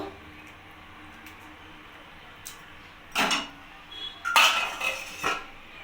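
A lid is set over a pot of vegetable khichuri with cauliflower, giving a few clinking metal knocks and a rattle near the end of a quiet kitchen background, with no talking.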